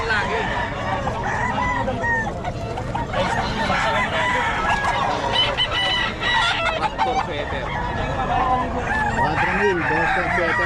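Roosters crow repeatedly and hens cluck amid a dense, loud crowd of fowl at a gamecock market in Bocaue, with voices murmuring underneath throughout.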